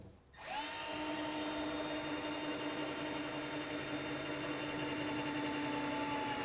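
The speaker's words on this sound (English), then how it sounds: "Now what I'm going to do is use a 1/8 inch drill bit." A power drill with a 1/8 inch bit bores pilot holes while installing a Taylor wing wheel well toolbox on a truck, spinning up quickly into a loud, steady whine that runs close and unbroken.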